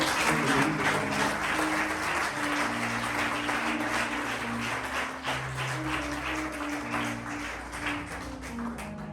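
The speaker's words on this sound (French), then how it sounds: "Acclame Jésus." A church congregation applauds continuously and fairly loudly, steady clapping filling the room with a sustained musical tone underneath.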